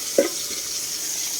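Water boils in a pot for tuna soup, giving a steady, even bubbling hiss throughout, broken near the start by a single short clunk.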